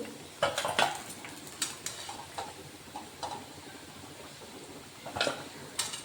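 Fried chapdi are moved from the frying pan into a utensil, giving light clinks and scrapes of metal in scattered bursts over a low background.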